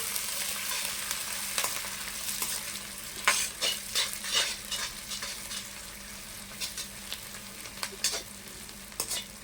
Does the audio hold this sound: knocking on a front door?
no